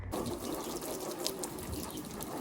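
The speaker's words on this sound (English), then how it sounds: "So now we got some water on here." Water sprays steadily onto a carbon fiber car hood during resurfacing, a continuous hissing wash at moderate level with no talk.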